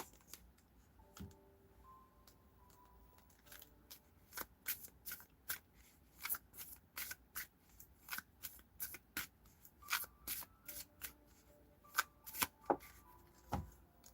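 Tarot cards are shuffled by hand in quick, crisp bursts of riffling and snapping, irregular clusters of sharp clicks close and fairly quiet against a near-silent room.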